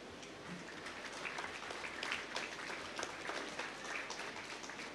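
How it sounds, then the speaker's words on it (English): An audience at a reggae event bursts into dense, sustained applause, many hands clapping together at close range for several seconds with no talk over it. "a big round of applause"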